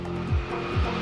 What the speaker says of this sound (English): This gigantic dump truck weighs over 200 tons.